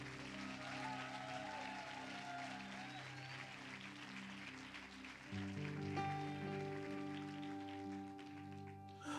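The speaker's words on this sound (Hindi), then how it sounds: "आइए उसके लिए अच्छी ताली बजाएं।" A church congregation claps in steady, continuous applause, faint and diffuse, mixed with sustained background music throughout.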